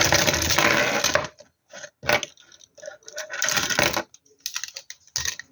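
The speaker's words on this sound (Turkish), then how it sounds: "Şimdi bunları hemen kalem kutuna koyuyorum." Pens dropped into a pencil case, bursts of plastic rattling and clattering separated by short pauses, close and fairly loud.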